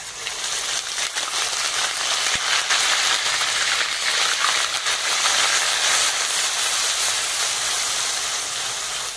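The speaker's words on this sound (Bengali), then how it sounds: "গোটা গরম মশলা, ফোড়নের ওপর পেঁয়াজ বাটাটা দিয়ে দেবো।" Onion paste hitting hot oil over bay leaf and whole garam masala in a pan, producing a loud, continuous hissing sizzle that holds steady for the whole stretch with no voices.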